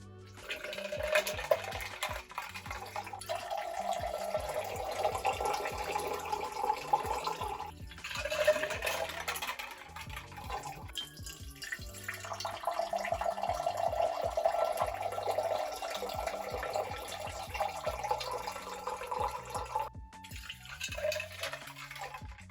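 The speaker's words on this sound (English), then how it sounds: "Now that I've poured it into this tin, I'm gonna set the other one down, and then we're gonna strain it into this one." Bloody Mary cocktail poured and strained back and forth between shaker tins, a steady liquid stream splashing and trickling for long stretches with brief pauses, close and clear without speech.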